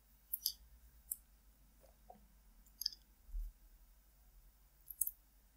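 Quiet, sharp computer mouse clicks come in small pairs and singles at intervals against a faint background hum, with no talk.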